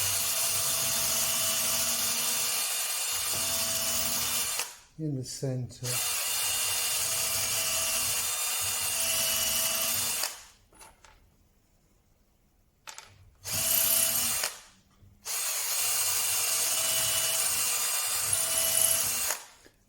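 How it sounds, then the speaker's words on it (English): Sustained whine of a power drill with a 1/8 inch bit boring pilot holes into the wooden sides of a sleigh bed, in several long runs separated by short pauses, with a brief spoken remark. "let's get this drilled and screwed. Right, 1/8 drill bit."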